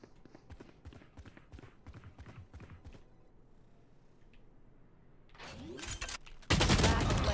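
Gunfire in a first-person shooter video game: rapid, fairly faint shots early on, a quieter lull, then much louder, dense bursts of gunfire close at hand toward the end.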